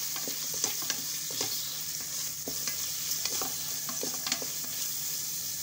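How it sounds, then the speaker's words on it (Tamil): Onions browned to golden, with tomatoes added, fry in a pan for vegetable rava kichadi. A constant sizzle carries repeated close scrapes and clinks of a spoon stirring the mixture. No talking. "இப்போ வந்து வெங்காயம் கோல்டன் ப்ரௌனிஷாக ஆனோடனே தக்காளி சேர்த்துக்கலாம்."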